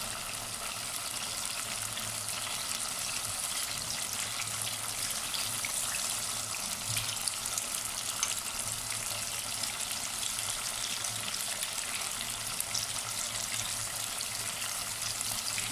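Meatballs (köfte) fry in a pan for a wet hamburger, giving a steady, even sizzle that crackles softly throughout with no talking.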